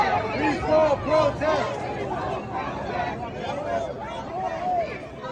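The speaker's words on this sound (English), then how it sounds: "the crowd's yelling peaceful protest" A protest crowd yells and chants in outdoor street news footage, a dense, loud mass of voices that rises and falls in rhythmic waves throughout.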